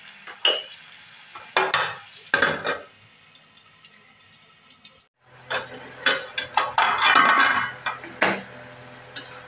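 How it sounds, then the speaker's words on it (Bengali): Thin-cut, salted potatoes fry in a pan and are stirred, giving intermittent scraping and clattering bursts over a faint sizzle, with a short quiet gap midway. "এবার আলুটা ভাজা হোক।"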